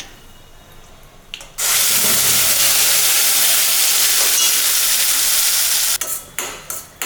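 Urad dal and curry leaves hit hot oil in a pan for a corn dosa chutney, setting off a sudden loud, steady sizzle that lasts several seconds before sputtering and fading.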